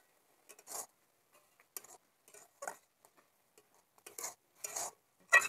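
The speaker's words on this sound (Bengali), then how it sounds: "এরকম অনবরত নাড়তে থাকবো, কড়ার গায়ে যেন বসে না যায়।" A wax gourd sweet with cardamom is stirred in a kadai, producing separate spoon scrapes and taps against the metal at an uneven pace, with quiet gaps between strokes and a sharper clink at the close.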